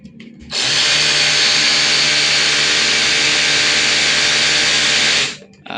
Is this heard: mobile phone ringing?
no